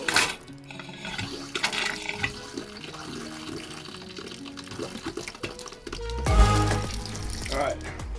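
Hot water runs from the faucet of a pop up camper during de-winterizing, a steady close hiss of flow that strengthens and splashes louder near the end, with a person talking over it.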